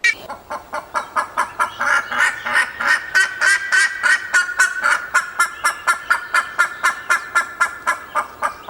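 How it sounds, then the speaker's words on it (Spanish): Black-faced ibis (bandurria) in Patagonia, near campsites, giving a long rapid series of loud, harsh honking calls, evenly pulsed and close, with no talking. "Pero vamos a hablar entonces en fauna de la Patagonia de la bandurria."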